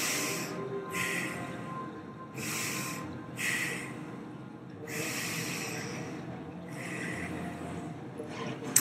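Slow, deliberate breaths drawn in and pushed out through the nose and mouth, about five airy, hissing exhales in a steady rhythm, close and clear with no talking.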